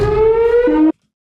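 A beach warning siren for a shark attack blares loudly as a steady electronic tone, drops to a lower pitch partway through, then cuts off abruptly into silence.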